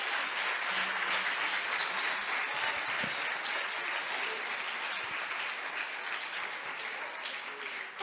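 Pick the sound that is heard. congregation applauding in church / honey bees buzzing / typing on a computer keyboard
congregation applauding in church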